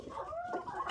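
Desi hens cluck softly nearby in a small village backyard farm, a few short rising and falling calls over quiet background noise.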